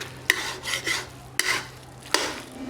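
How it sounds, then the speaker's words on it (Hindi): Spoon scraping and stirring melting mawa in a pan, three distinct sharp scrapes against the metal at uneven intervals with softer stirring sounds between, close and fairly quiet. "तो धीरे धीरे इसको इसी तरीके से चलाते हुए मेल्ट करना है।"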